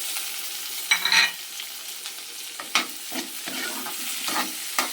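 Chopped tomatoes go into a frying pan where fried galunggong (round scad) is being made, followed by scraping and stirring with soft sizzling, a few sharp utensil clinks near the start, and no talking.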